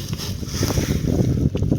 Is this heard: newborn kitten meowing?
no